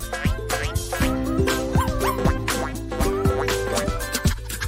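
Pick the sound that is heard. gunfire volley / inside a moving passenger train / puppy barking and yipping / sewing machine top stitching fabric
puppy barking and yipping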